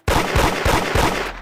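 Rapid bursts of automatic gunfire from a hood-style online shooter game, loud and close, firing in repeated clusters with no voices over it.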